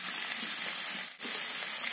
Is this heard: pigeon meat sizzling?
yes